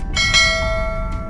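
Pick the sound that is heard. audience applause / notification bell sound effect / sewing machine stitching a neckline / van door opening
notification bell sound effect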